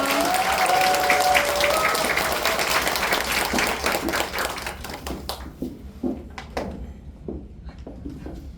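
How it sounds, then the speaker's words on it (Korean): An audience at a company event welcomes an executive to the stage with loud, dense applause that thins out into a few scattered, separate claps before fading. "EVP 권순기 사장님 큰 박수로 모시겠습니다."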